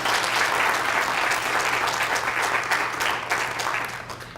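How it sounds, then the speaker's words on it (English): A short, steady round of audience applause at an ACLU of Michigan meeting, even dense clapping of moderate loudness with no talk over it. "Let's give her a round of applause, just a little one."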